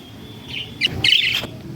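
A female budgerigar chirps inside a nest box with chicks, a few bright, close tweets clustered in the second half over a faint steady background.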